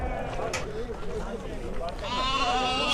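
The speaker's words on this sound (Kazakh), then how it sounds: "Сондай семіз қойлар екен." Sheep bleating at the Sokuluk livestock market, several bleats rising above a busy background of people talking and moving animals.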